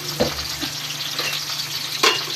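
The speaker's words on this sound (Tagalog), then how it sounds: "Lapasin natin yung aroma ng sibuyas, mga idol, para mabango." Onions sautéing in a pan for tilapia sarciado, a steady close frying hiss with a few soft spoon taps and one brighter scrape near the end.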